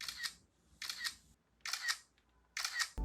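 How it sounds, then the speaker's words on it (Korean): An iPhone XS camera shutter fires four times at a steady pace, each click crisp, close and fairly loud against near silence. "XS가 유독 카메라 셔터음이 큰 것 같아요"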